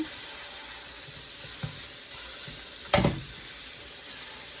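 One pound of ground beef sizzling in a pot for chili, a steady close hiss of frying broken by a few clanks and scrapes from stirring, with no talking.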